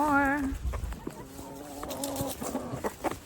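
Chickens cluck in a backyard chicken run floored with wood chips, a few short nearby clucks and calls opening the clip and returning under light talk.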